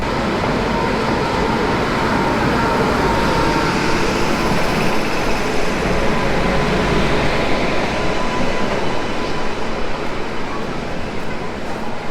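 The 12023 Howrah–Patna Janshatabdi Express runs in a steady, loud rumble heard from inside a carriage, with continuous rolling noise and faint voices in the background.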